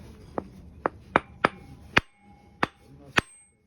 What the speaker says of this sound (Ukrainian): Ми збиваємо цей фланець.